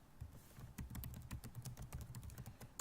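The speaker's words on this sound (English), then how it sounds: "you're going to type your author's note" Fast, steady typing on a computer keyboard, keys clattering close up in quick uneven bursts for the whole stretch, with no voice over it.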